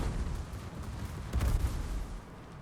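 Rear battleship guns firing on the Sherbert in World of Warships, heard as a single muffled low boom about midway through a short stretch of rumbling game noise, with no speech.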